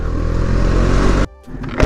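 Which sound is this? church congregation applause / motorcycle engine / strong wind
motorcycle engine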